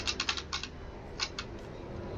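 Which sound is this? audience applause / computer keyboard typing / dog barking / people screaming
computer keyboard typing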